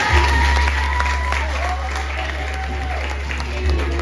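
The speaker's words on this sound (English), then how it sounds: "Give them a round of applause" Applause at a primary and infant school graduation ceremony, a steady, dense wash of clapping from the audience that holds loud and even throughout.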